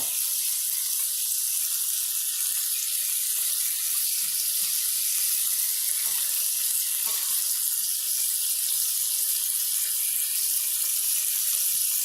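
Tap water runs loud and steady at a kitchen sink while a cutting board and knife are washed under it. The hiss is unbroken from start to finish.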